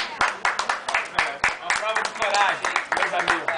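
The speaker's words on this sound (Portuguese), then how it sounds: "Aplausos, please!" A group claps their hands in an uneven burst of sharp, close slaps, with excited voices talking over the applause.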